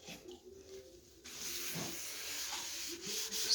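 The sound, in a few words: rubbing stain into distressed wooden speaker cabinets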